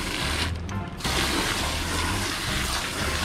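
Water runs and splashes steadily into a basin where fly masks are soaking in soapy water, with a brief dip in the flow early on and faint clinks beneath it.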